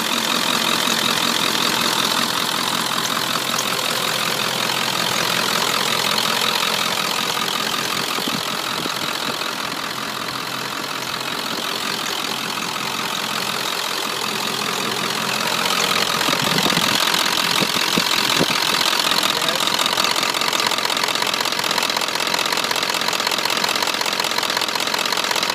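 A 1996 Ford F250 XLT 4x4 with a 7.3 Power Stroke turbo diesel idles steadily with a rough, clattering diesel knock, heard close and loud throughout with no talking.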